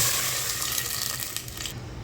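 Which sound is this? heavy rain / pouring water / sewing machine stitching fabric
pouring water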